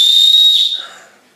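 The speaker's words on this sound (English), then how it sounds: "The first thing we've got is the whistle. Little emergency whistle there." A single loud, shrill blast from the emergency whistle on a 10-in-1 survival multi-tool, held steady for about half a second before trailing off.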